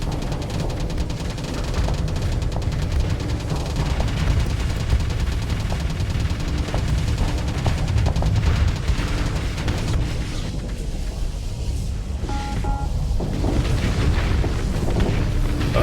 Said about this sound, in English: Here comes the missile spam